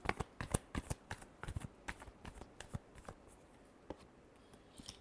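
Tarot cards being shuffled by hand, a rapid run of crisp papery riffles and taps in an irregular rhythm, close and fairly quiet, with no voices.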